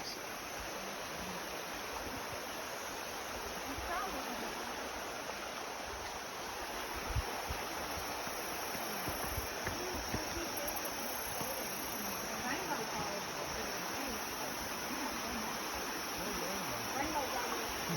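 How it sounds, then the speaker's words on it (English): Spring water from Pull Tight Spring runs down into the Current River, a continuous broad rushing wash that stays even throughout, with a steady high insect drone over it. "This is the stream flowing down into the current."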